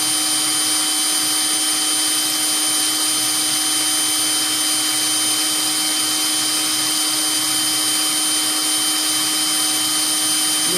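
A drill with a drill bit boring through a clear lamp base, a loud continuous high-pitched whine held steady and close for the whole stretch, alone without talk.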